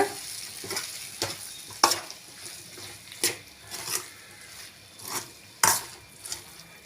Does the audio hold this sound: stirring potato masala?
yes